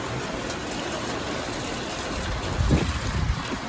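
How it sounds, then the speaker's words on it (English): Heavy, hard rain pours down outdoors over a garden plot, a dense steady roar of hiss and wind with a brief stronger gust near the end, no voices. "This is some hard rain there."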